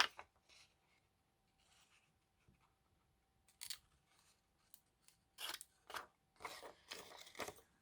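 Paper being cut with scissors while making pockets from decorative diary pages, in a quiet room: several short crisp snips come in separate bursts, with longer runs of snipping toward the end.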